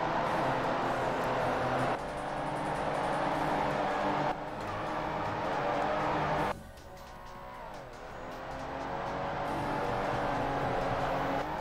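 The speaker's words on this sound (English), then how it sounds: "I love how the sound just like fades in and out of the cars." Cars race in the Ford Racing video game during a Contour season, engines droning and swelling as they fade in and out at a distance, with a tire squeal and shifting engine tones, no talk.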